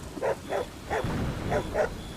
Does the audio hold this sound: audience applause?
no